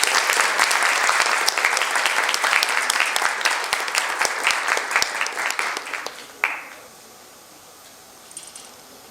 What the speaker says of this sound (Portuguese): eu queria convidar uma salva de palmas para o professor Tiago Pereira